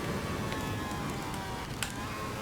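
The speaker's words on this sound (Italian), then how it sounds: "Eh sì, adesso piove." Rain falls in the Formula Legends racing game during a 1975 championship mod, a steady hissing downpour with a few brief sharper spatters near the end.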